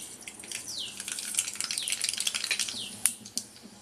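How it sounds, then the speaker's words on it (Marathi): Mustard seeds crackle and pop in a little hot oil for tempering: quick, dense clusters of small sharp snaps, close and moderately loud, trailing off into a few sparser pops. "राई फोडणीला देऊया"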